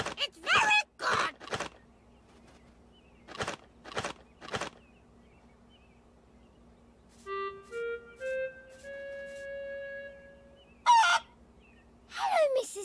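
Bird calls from a chicken character in the Peppa Pig video game come as short squawking bursts, interleaved with brief talk and a rising series of musical tones in between.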